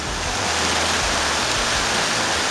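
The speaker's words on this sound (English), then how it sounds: "many, many little spots where all the streams come together" Many small streams of water spill out of rubble near caves in Ontario, making a continuous broad rushing hiss of flowing water that stays even throughout.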